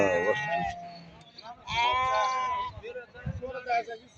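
Sheep bleat repeatedly at a busy livestock market in Barda, with several calls rising over crowd noise while people talk nearby.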